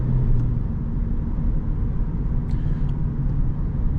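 A 2006 Pontiac Grand Prix sedan's engine drones steadily from inside the cabin while driving, a loud, constant low rumble with road noise and no clear revving changes.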